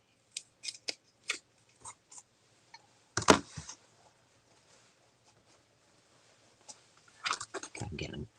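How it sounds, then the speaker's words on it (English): Scissors snipping in short, crisp bursts, several quick cuts close by with pauses between, then a flurry of snips at the end. "But these scissors are not cutting it,"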